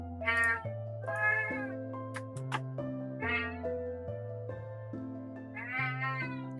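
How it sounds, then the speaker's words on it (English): A cat meows repeatedly, several drawn-out cries close by, over a steady low musical drone. "I don't know if you guys could hear him meowing,"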